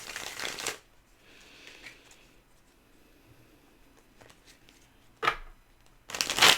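Tarot cards being shuffled in two quick riffling bursts, one at the start and one near the end, with a short flick between and near-silence in the middle.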